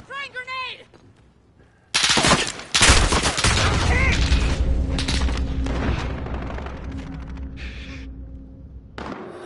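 Grenade explosion and rapid gunfire in the Modern Warfare online game, a sudden loud boom followed by sustained bursts of automatic fire and booms, with a brief shout at the start.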